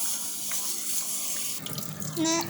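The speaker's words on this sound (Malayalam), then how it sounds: "ഒരു 3 പ്രാവശ്യമെങ്കിലും ഒന്ന് കഴുകി വൃത്തിയാക്കണം." Green gram being rinsed under a running kitchen tap, a steady close splash of water into a sink that grows brighter and fuller toward the end, with no talk.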